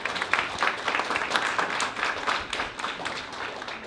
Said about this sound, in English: Let's have another round of applause for everyone up here